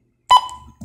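A Baojie BJ-218 dual-band VHF/UHF mini handheld radio transceiver gives a single short, clear electronic beep, followed by a brief fading tail and quiet.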